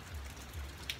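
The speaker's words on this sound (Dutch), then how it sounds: "mist, regen." Rain falling steadily at an eco lodge near Sapa in northern Vietnam, a soft continuous patter with a few brighter drop taps, heard alone at low level.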